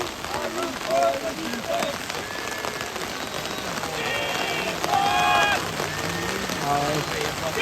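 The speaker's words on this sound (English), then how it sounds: "As the rain continues hard," Hard rain falls throughout on an outdoor sports field in Syracuse during a third-place game. It makes a dense, steady hiss, with a commentator talking over it and scattered whistles and shouts from the field.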